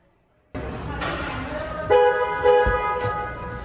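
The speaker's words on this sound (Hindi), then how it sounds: "डुअल टोन इलेक्ट्रिक हॉर्न है" A dual-tone electric horn on a 2024 Jeep Meridian Overland 4x4 sounds, brief harmonic honks over a steady engine-like drone, close and moderately loud.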